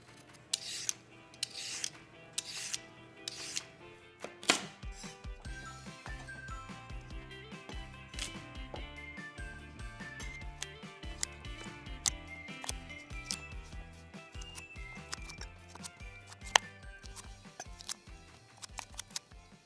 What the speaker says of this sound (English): We're gonna start by peeling our carrots and then cutting them into either sticks or rounds.